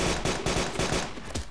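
Rapid bursts of gunfire in the DayZ mod game repeat roughly every few tenths of a second over a steady noisy background, loud and continuous like automatic weapons.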